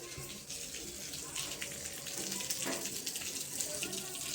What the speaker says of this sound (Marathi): हे बघा किती पाणी पडते वरून.